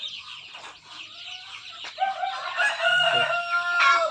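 Chickens in a simple backyard coop cluck nearby while a rooster lets out a loud, drawn-out crow that builds toward the end; the flock includes Shamo, Rhode Island, Black Australorp and Buff Orpington breeds.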